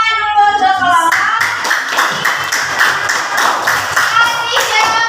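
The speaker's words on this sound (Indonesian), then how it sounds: "Kita kasih tepuk tangan dulu untuk kelompok" A class of children claps hands together for a group, loud rhythmic clapping in a classroom that follows a brief stretch of singsong voices.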